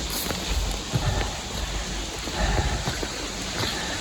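Steady rain pours down close by on a slippery mountain trail in the Pyrenees, a dense hiss with occasional low thumps and rumbles beneath it.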